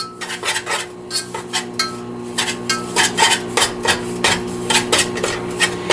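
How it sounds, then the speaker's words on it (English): A whisk scrapes and clinks rhythmically against a pan of milk, each quick stroke a bright metallic rasp, close and steady for several seconds with a faint hum underneath. "let me keep whisking that for a little bit"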